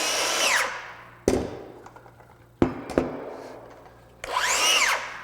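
Craftsman V20 brushless 7-1/4" circular saw cutting wood: a motor whines up and winds down, with sharp clunks between runs, nearby and moderately loud.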